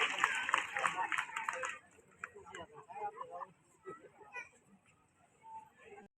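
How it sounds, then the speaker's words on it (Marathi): An audience claps at a Chhatrapati Shivaji Maharaj Jayanti stage event, a dense burst of applause for about two seconds that fades out as a person begins speaking. "सगळ्यांनी तर टाळ्या वाजवायचे वीरासाठी."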